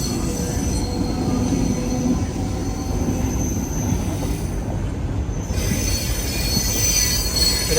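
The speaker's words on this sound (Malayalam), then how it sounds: "ട്രെയിൻ ഇപ്പോൾ ബേസിക് ബ്രിഡ്ജ് ജംഗ്ഷൻ റെയിൽവേ സ്റ്റേഷനിലെത്തിയിരിക്കുകയാണ്" A local train rolls into Basin Bridge Junction railway station with loud, continuous wheel squeal and steady rail rumble, metallic screeching persisting close by throughout with no voices.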